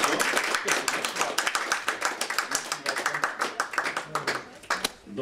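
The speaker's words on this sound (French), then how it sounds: "On peut les applaudir." A small group claps, a run of scattered, fairly close handclaps that thins out toward the end.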